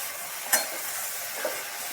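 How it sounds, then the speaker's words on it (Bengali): A spoon stirs hilsa fish head with ash gourd in a pan, a soft frying sizzle underneath with two brief scraping clinks against the pan. "ঢাকনা খুলে দিলাম, দিয়ে একটু নাড়ছি।"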